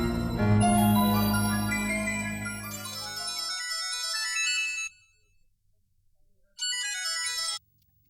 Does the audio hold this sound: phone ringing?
yes